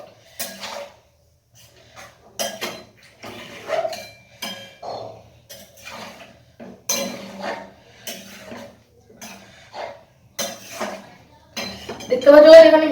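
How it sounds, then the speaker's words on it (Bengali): Food is stirred and mixed in a pot during home cooking, with intermittent clinks and scrapes of a utensil against metal in short bursts, and a voice speaks briefly near the end. "দেখতে পাচ্ছ এখানে মিশাচ্ছি।"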